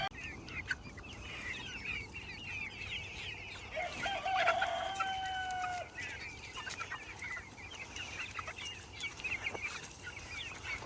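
Roughly eight to ten hens on a farm clucking and murmuring continuously at moderate distance, with a rooster-like call rising briefly in the middle over faint outdoor background.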